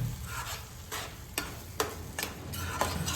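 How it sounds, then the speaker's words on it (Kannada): A spoon stirs egg gravy with added sugar in a pan, giving soft, regular scraping strokes about every half second over a faint, quiet sizzle. "ಈಗ ಎಲ್ಲವನ್ನು ಕರೆಕ್ಟಾಗಿ ಮಿಕ್ಸ್ ಮಾಡೋಣ ಚೆನ್ನಾಗಿ."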